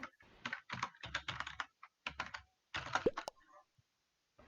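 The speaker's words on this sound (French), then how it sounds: "qui pianote comme ça sur son clavier" Quick bursts of typing on a computer keyboard during an Among Us game, close and crisp, with short pauses between clusters of keystrokes.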